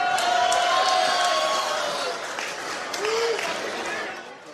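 Video game wrestling crowd from WWE, a steady roar of cheering and clapping with whoops, loud and continuous before easing off at the end.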